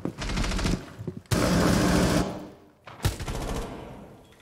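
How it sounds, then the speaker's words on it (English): Rapid automatic gunfire in Rainbow Six Siege: three loud bursts of fast, close shots, the middle one longest, separated by short gaps. "He's shooting at Valkyrie."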